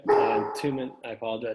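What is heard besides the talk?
dog barking and howling in the background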